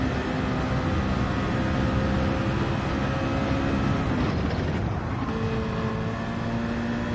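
A car engine in a VR racing game, droning loud and continuous like steady broadband engine noise, with a brief change in pitch partway through.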